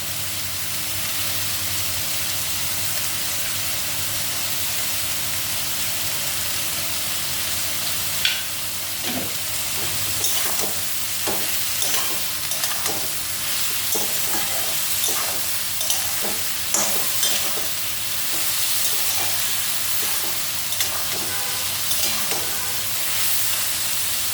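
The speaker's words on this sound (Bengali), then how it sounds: "লাউটাকে একটু ভাজতে হবে একটু।" Salted bottle gourd frying in a pan, with a steady broadband sizzle throughout and a scattering of scraping stirs that turn more frequent partway through; no voices.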